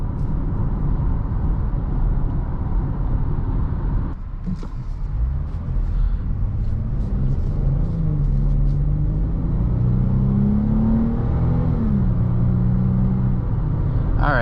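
A 2023 Dodge Challenger SXT engine accelerating while driving gives a steady, close low rumble with road noise, its tone rising and holding as the car pulls. No one speaks.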